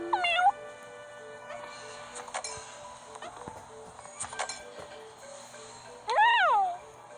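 Cartoon kitten meows from the Toca Kitchen video game, one at the start and a longer rising-falling meow near the end, with small clinking kitchen sounds and game effects in between.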